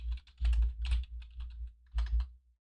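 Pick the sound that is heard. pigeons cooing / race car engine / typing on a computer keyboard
typing on a computer keyboard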